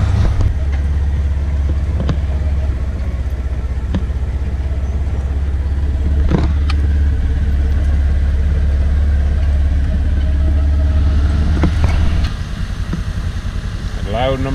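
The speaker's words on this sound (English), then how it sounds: "I see 2 trucks coming in now." Logging trucks pull in at a farm and rumble with a steady, low diesel drone from start to finish, while voices talk over it and a few sharp knocks stand out.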